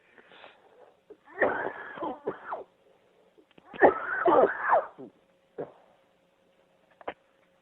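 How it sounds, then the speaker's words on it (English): A person coughs in several harsh, wheezy bursts separated by short pauses, close and otherwise quiet, in a cigar lounge setting. "Hang on while I cough again."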